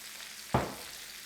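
Steak in a pan with butter lets out a sudden burst of sizzling that swells and fades within a moment over a faint background hiss.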